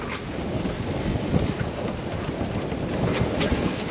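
Strong wind buffets a sailboat close-hauled in about 18 knots, with the sea built up into whitecaps; a steady, loud roar of wind and rushing water continues throughout with no talking.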